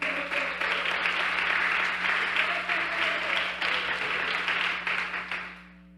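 A church congregation at a Bible seminary gives a long, even round of applause, the clapping dense and continuous over a steady low hum before it tapers off to quiet.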